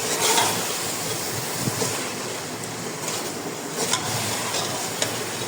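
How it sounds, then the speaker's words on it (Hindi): Beef and masala fry over high heat in a steady, loud, close sizzle with occasional stirring clicks and no voices. "आपने अब आंच को तेज़ करके 5 से 7 मिनट तक गोश्त की भुनाई कर लेनी है।"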